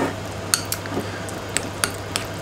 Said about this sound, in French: je vais ouvrir la pomme de terre, la couper, mettre une fente, écraser un tout petit peu